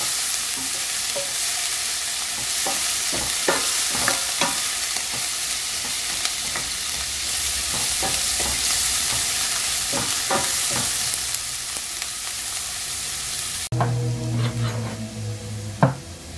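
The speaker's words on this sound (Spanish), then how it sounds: "Y vamos a añadir la cebolla y el ajo. Cocinamos por unos 3 minutos." Onion and garlic frying in a pan with butter, an even, moderately loud sizzle punctuated by irregular taps and scrapes of a utensil, ending in a few sharper knocks.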